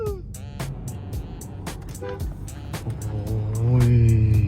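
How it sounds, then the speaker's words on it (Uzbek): A car horn honks inside a car, a short tonal blast that grows louder and steadier toward the end, over engine hum and a run of sharp clicking ticks. "Signal bosdim."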